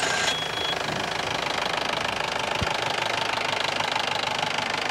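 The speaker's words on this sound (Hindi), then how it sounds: "एक बार इंजन स्टार्ट करके सुना देते हैं।" A Bolero 2500 cc engine fitted in a modified Willys jeep idles steadily nearby with a rough, rapid knocking diesel rhythm and a faint click partway through, and no voices.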